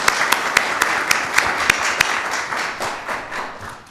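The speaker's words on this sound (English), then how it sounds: "So please, let's give another round of applause for the First Lady." Applause at a White House state dinner press preview, with a few sharp, distinct claps at first that thin into a looser, fading patter.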